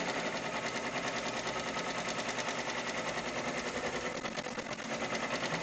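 An embroidery machine stitching a Hello Fall design, its continuous rapid needle chatter buzzing steadily and fairly loud from start to finish, with no pauses.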